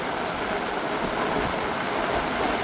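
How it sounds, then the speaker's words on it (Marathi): Steady, dense wind-driven rain in a Konkan village in Vaibhavwadi, a loud continuous hiss of falling water and gusting air with no voices. "हवा पण आली आहे, पाऊस पण आला आहे."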